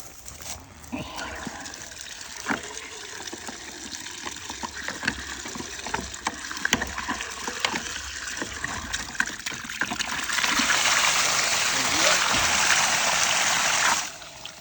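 Water pours from an IBC water tank, trickling and splashing unevenly at first, then swelling into a steady, louder gush for several seconds before stopping abruptly.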